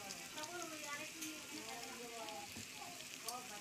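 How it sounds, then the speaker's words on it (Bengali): Potatoes fry in hot oil with turmeric powder, giving a steady, fairly quiet crackling sizzle that runs throughout, and a voice talks faintly over it. "এরপর তেল গরম করে তেলের মধ্যে আলু ভেজে নিচ্ছি"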